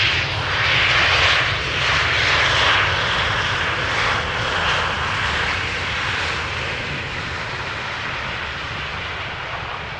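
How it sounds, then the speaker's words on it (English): A Boeing 737-700 airliner arriving from Billund at Amsterdam Schiphol passes with a loud, steady engine roar and rushing whine that holds alone for the whole stretch, easing slightly toward the end. "That was a tiny little 737-700 arriving from Billund"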